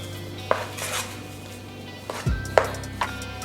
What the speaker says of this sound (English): Then you wanna go ahead and give that a mix.